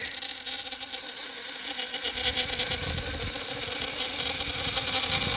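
A newly installed motor drives the rope tow on a 350-foot backyard zipline, running steadily and close by with a continuous engine-like hum and rattle that grows fuller partway through.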